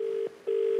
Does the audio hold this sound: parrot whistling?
no